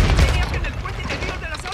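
Dense gunfire in the Call of Duty Modern Warfare 2 campaign, a loud continuous burst of shots with a heavy low rumble at the start, fading slightly over the short stretch amid chaotic battle noise.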